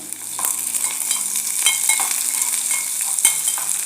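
Ginger-garlic paste and onions sauté in oil in a pan, a soft continuous sizzle with occasional light stirring clicks and scrapes, close and without talk.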